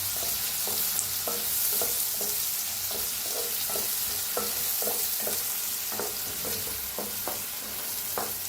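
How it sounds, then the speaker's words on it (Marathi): Sliced onion fries with curry leaves and a pinch of asafoetida in a new kadai, sizzling steadily up close while a spoon scrapes and stirs the pan in regular, clicking strokes. "कापून घेतलेला कांदा, कांदा छान असा भाजून घ्यायचा"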